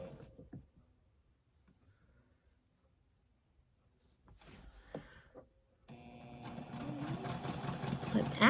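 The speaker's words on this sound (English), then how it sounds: "I'm actually sewing along" A sewing machine stitches quilt fabric, starting about midway with a steady, loud mechanical whir that keeps running to the end, preceded by a few faint handling knocks.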